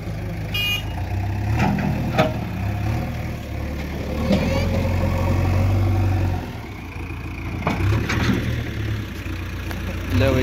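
A JCB machine engine runs steadily at mid pitch, close and continuous, during work pulling a stuck soil trolley behind a Sonalika DI 50 tractor.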